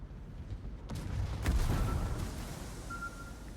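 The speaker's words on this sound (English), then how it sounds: "Balti is now starting to range some HE shells down on me" HE shells landing around a battleship in a naval warship game, a sharp crack followed by deep rumbling booms that swell and fade, with a faint tone later on.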